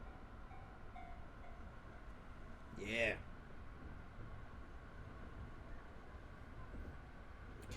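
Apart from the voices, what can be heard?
train running, from the video game Train Drive ATS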